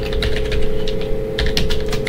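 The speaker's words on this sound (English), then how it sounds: "I'm just gonna type in here" Quick, irregular keystrokes clatter on a computer keyboard while typing into Notepad, close and fairly loud, with short bursts and brief pauses over a steady low electrical hum.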